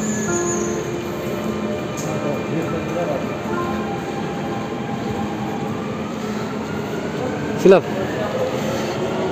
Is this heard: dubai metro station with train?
yes